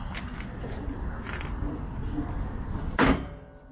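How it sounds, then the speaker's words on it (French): A single heavy slam near the end as the hood of a 1956 Buick Roadmaster shuts, after a stretch of low background rumble. "je vais fermer le capot pour vous la montrer dans son ensemble"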